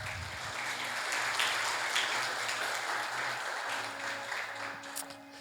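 A church congregation applauding, a sustained wash of many hands clapping at moderate distance that swells and holds for several seconds before easing slightly.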